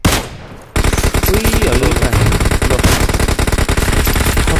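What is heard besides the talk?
gunfire hitting vehicles in a video game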